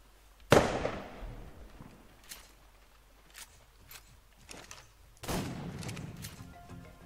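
Modded ammunition fires in the video game ARK, two sharp loud blasts a few seconds apart, each trailing off in crackling decay, with scattered smaller pops and faint clatter between them and no talking.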